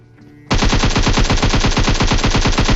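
Loud, sustained automatic gunfire in a video game: a rapid, even stream of shots rattling on without pause after a quiet start.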